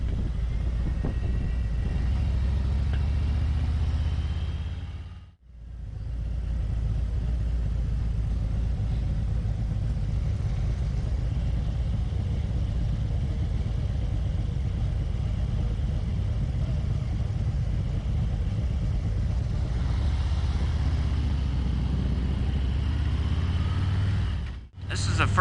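Several motorcycles ride together along a river road, their engines making a continuous loud rumble and wind-buffeted roar that briefly drops out twice before returning.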